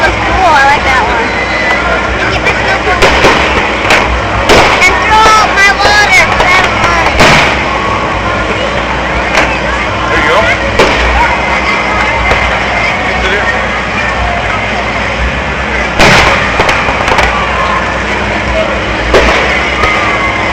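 Fireworks at the Palos Hills Friendship Festival, 2011: repeated booms and crackling bursts at irregular intervals over a loud, constant crowd murmur and faint background music.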